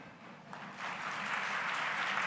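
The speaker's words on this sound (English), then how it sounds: "Please stand and take applause" Audience applause at a conference valedictory ceremony, a steady wash of clapping from a crowd that swells slightly and holds at moderate volume, heard from some distance.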